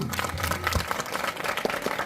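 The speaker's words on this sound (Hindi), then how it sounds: "जोरदार तालियां" Scattered applause from a small crowd, a steady patter of hand claps that keeps going throughout.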